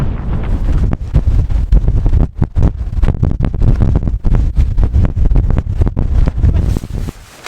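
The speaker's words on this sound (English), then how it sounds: "Really hope the wind stops." Strong mountain wind buffets the microphone at a camp in harsh gusts, a loud, continuous low roar that breaks off briefly a couple of times and eases near the end; no one speaks.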